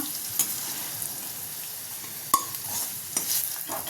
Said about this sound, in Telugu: దొండకాయ ముక్కలు నూనెలో మంచిగా ఫ్రై అయితే చాలా బాగుంటుందండి.